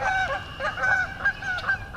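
Several geese honk repeatedly as they take off and leave, a run of nasal calls at a moderate distance with no speech over them.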